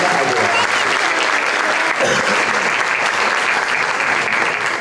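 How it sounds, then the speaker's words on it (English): Audience applause at a high school pageant for a contestant, a steady wash of clapping from a crowd in a hall that holds level throughout, with no one speaking over it. "Let's give another round of applause for contestant number 3, Miss Majorette, Karina Aguilar."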